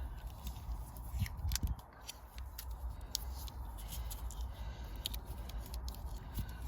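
Tape is pulled off a roll and wrapped around a wire connection during a seat swap in a Mini R52, heard as soft close crackles and stretching rasps, quiet and steady, with no talking.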